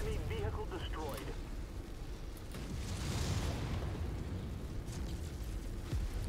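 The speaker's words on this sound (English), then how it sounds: "Enemy vehicle destroyed." An enemy vehicle blows up in the MechWarrior 5 video game, a rumbling burst set inside a dense, continuous roar of battle and mech noise.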